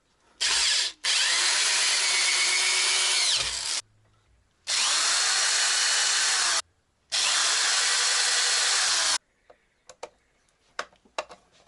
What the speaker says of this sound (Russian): Так, у меня же шуруповерт есть.